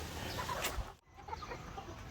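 Chickens in a breeding pen cluck softly around feed scattered on the ground, a loose patter of short calls with a brief sharp knock midway, fairly close and unbroken by talk.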